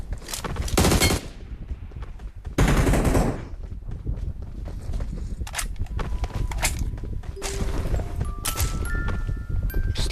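Rapid automatic gunfire bursts from the PUBG Mobile battle royale game, loud and repeated in several dense volleys with single shots between, dominating the scene with almost no talk.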